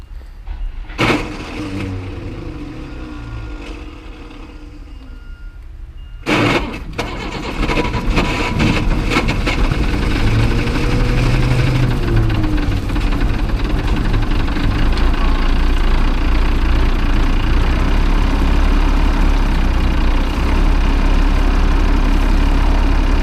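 A Ford F800 dump truck from a scrapyard cranks in two short bursts, then catches and settles into a loud, steady, close-up diesel-like idle that rumbles on for the rest of the stretch with no talk.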